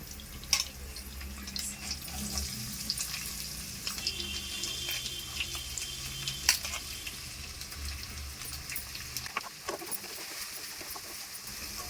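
Onions frying in a pan for Telugu boti curry give a soft steady sizzle with light stirring clicks. The low rumble underneath drops away near the end, and nobody speaks.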